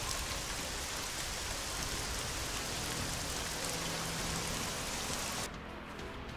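Steady, dense rainfall hisses in the video game ELEX, a loud, even wash of drops on surfaces that runs unbroken and then drops off abruptly to a softer patter near the end, with no voices.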